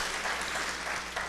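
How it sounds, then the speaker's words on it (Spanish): Applause from a conference panel audience, a brief, dense patter of many hands clapping at moderate loudness, heard alone. "Y muchas gracias a ustedes por el aplauso."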